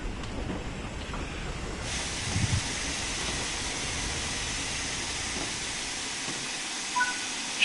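A steady, broad hiss of steam from a locomotive in the video game Train Sim World 6 fills the clip, with faint rumbling underneath and no talking.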